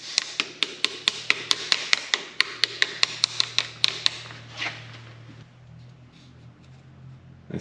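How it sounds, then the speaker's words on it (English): A rapid series of sharp metallic hammer blows from a large hammer during MG Midget engine assembly, about a dozen strikes in quick steady rhythm, then stopping into quieter background hum. "Now you just get the biggest hammer."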